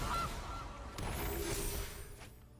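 A goose honk plays as a Goose card is cast in a Magic Arena match, a short nasal call near the start over a busy, steady game backdrop with soft thumps.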